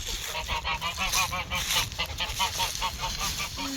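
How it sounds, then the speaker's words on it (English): A flock of Emden geese honking close by on pasture, rapid repeated loud honks overlapping in quick bursts with a busy background of other birds, no talk. "these Emden geese have all been sold as Christmas geese, and so they're about to get processed"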